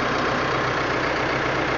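A Massey Ferguson 5455 tractor engine idles steadily at close range, a loud continuous diesel rumble with a slight knocking texture and no speech over it.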